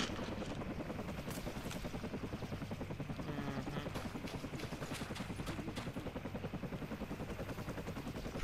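A video game helicopter's rotor chops in a steady, rapid rhythm, fairly quiet and continuous, with bursts of gunfire mixed in.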